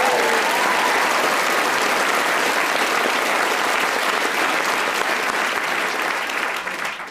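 Studio audience applause for a guest on a comedy panel show, dense steady clapping that holds for several seconds before starting to taper off at the end.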